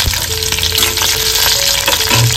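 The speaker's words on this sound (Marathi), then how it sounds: "फोडणीसाठी आपण सर्वात पहिले तर मिरच्या घालून घेतोय." Green chillies dropped into hot oil in a kadhai for tempering, producing a loud, close, continuous spitting sizzle with bursts of crackle over a short span.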